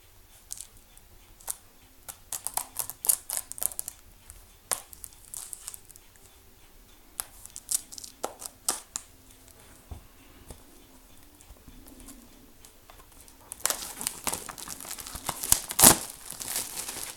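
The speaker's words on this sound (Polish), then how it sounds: "No to go rozpakowuję." Plastic foil being peeled and unwrapped from a Bohemian Rhapsody package, close crinkling and crackling in scattered bursts, growing denser and louder near the end.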